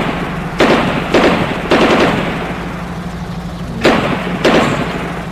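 Gunfire during a gun battle between security forces and separatist fighters, sharp bursts cracking out one after another at irregular intervals over a low background hum, loud and fairly close.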